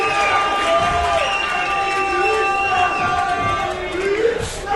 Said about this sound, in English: This crowd trying to get behind KPK, trying to give some of their energy to Abu so he can get over and make that tag.